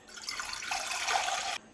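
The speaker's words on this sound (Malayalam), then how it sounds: "അതിലേക്ക് എടുത്ത് വെച്ച 2 കപ്പ് വെള്ളം ഒഴിച്ചു കൊടുക്കാം." Two cups of water poured into a pan sitting on a stove for tomato soup, a steady close splashing pour lasting about a second and a half, then stopping abruptly, with no talk.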